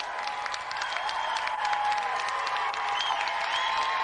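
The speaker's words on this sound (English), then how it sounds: "So let's have another round of applause for our two celebrity guests, Hugh Higginson and Mark Wingett." Studio audience on a game show breaking into sustained applause for two celebrity guests, a steady mass of clapping with a few scattered cheers at moderate volume and no pauses.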